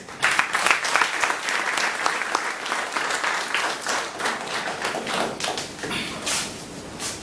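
An audience at a Toastmasters club meeting applauds to welcome Toastmaster Jessica, a steady roomful of clapping that stays strong and dense for about seven seconds with no talk over it.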